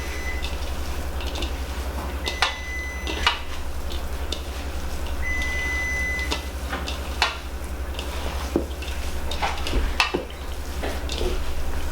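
Chopped onion gets mixed into ground beef in a frying pan for hamburger steaks, a low steady sizzle with occasional utensil scrapes and clacks against the pan, plus a constant low hum underneath.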